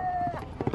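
A mare gallops at a horse race in Shehzadpur, Fatehgarh Sahib, her quick hoofbeats briefly audible beneath a loud announcer's voice.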